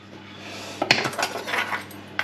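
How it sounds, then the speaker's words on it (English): Steamed potatoes worked through a metal potato ricer for mash, with a sharp metallic clank followed by a run of soft scraping and clinking close by. No one speaks. "now we're going to rice the potatoes for the mash"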